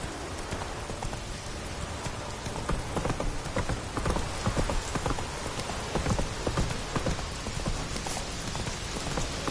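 Roach, a horse in The Witcher 3, gallops with steady clip-clop hoofbeats, close and continuous, over a dense layer of rain-like hiss.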